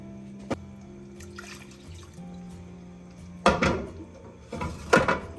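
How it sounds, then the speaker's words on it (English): Water is poured into a pot of fish curry with lime juice and turmeric, two short splashing bursts a second or so apart following light kitchen clinks, fairly quiet and close. "you need to add some more water so that the fish is completely immersed"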